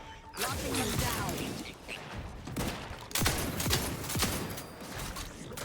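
Shotgun blasts in The Outer Worlds on very hard difficulty, a string of sharp booming shots spaced a second or so apart amid combat clatter, with voices talking over the action.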